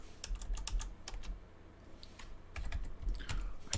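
Typing on a computer keyboard during RAM card testing on an Altair 8800, in bursts of quick close key clicks with a short pause midway, no talking.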